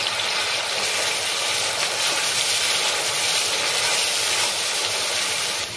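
Coriander, cumin and chili paste frying in a pan, a steady, loud, even hiss that carries on without a break and with no talking.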